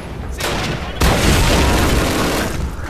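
A burst of loud gunfire booms in Call of Duty: United Offensive, shots at an armored car, one sharp blast followed by sustained rumbling shots and noise, dense and close.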